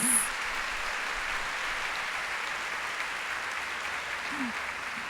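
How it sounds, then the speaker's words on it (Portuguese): Church congregation applauding in praise of God during a worship service, a steady wash of clapping that holds evenly throughout, with faint voices in the background. "Vamos aplaudir o nosso Deus."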